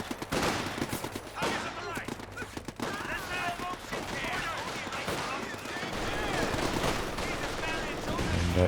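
G43 rifles crack away in a Company of Heroes 2 multiplayer battle, a dense run of overlapping gunshots and volleys with distant battlefield rumble, loud and continuous, while a commentator talks over the action.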